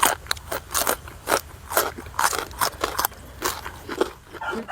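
Crunching on crispy peanuts and garlic, close and steady chewing with sharp crackly bites every fraction of a second, loud throughout.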